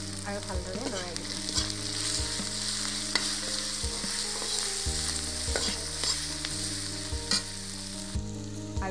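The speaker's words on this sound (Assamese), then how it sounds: "আৰু এতিয়া দিম হালধি গুড়ি আৰু ভালদৰে লৰাই দিব।" Turmeric powder stirred into a frying lentil dish, a steady sizzle with repeated scraping strokes of a spoon against the pan, close and continuous.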